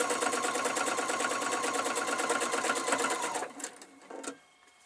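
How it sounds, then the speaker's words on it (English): A sewing machine runs a rapid, even stitching whir while sewing quarter-inch patchwork seams for a Cathedral Windows quilt, then stops abruptly near the end, leaving a few soft clicks and handling noises. "this time we're sewing them at 1/4 inch, just our normal patchwork seam allowance"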